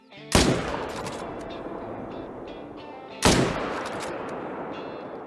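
Rifle shots from a .300 in the hunting game theHunter: Call of the Wild, two loud sharp reports about three seconds apart, each trailing off in a long rolling echo over ambient background.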